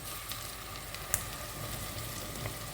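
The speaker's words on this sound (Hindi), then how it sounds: "इसमें मैं अभी ये लहसुन अदरक का पेस्ट डाल रही हूँ।" Garlic ginger paste sizzles softly and steadily in hot oil, a faint continuous fry with occasional small pops and crackles throughout.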